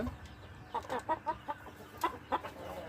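A hen waiting to lay an egg clucks in a quick run of short, close, rhythmic bursts over a low background hum.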